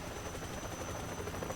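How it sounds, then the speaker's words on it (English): Helicopter in the video game Metal Gear Solid 3, a steady broadband rotor roar with a faint thumping texture and a thin high whine, filling the clip at moderate level with no speech. "Weird how that helicopter isn't really screwing up that bridge right now."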